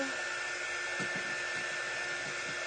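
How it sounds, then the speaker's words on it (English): A hair dryer runs steadily to dry a craft project, giving a loud, continuous, close whooshing roar with a thin steady whine and a few faint low knocks underneath. "I want to dry this really, really well"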